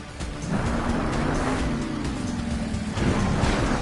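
Monster truck engine at a Monster Jam stadium championship event in Anaheim, a loud roar that rises and surges as it revs trying to pull a wheelie, heard at a distance across the stadium with no talking.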